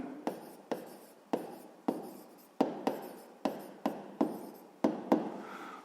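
Pen writing on paper as a math equation check is worked out, heard as a dozen or so crisp scratching strokes in uneven bursts, close and fairly quiet, with no talking.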